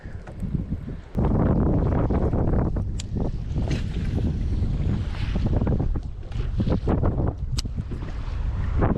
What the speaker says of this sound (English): The wind is crashing into this rock island